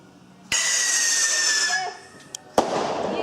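Family fireworks going off outdoors on a cold night: a loud burst with a long hissing, crackling trail, then a second sharp bang near the end, heard from close by.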